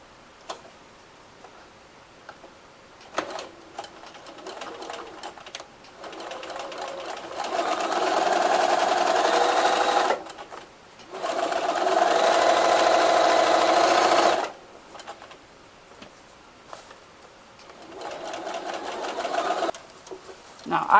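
A sewing machine stitches the second side seam of a shirt closed in two sustained bursts of rapid whirring, with quieter pauses and handling sounds between them.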